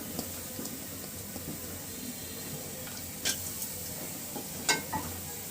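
Chopped onion sizzles quietly in a pot set on the stove, a soft, steady hiss broken by a few sharp clicks of stirring.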